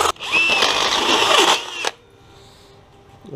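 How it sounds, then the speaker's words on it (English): A close, loud step drill bit whines through steel for about two seconds, then cuts out abruptly, leaving a quiet hum. "using this step bit, I've already pretty much got 4 of these done"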